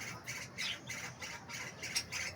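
Pet parakeets squawking in harsh, rapid repeated bursts, close and continuous, several birds overlapping in a busy chatter.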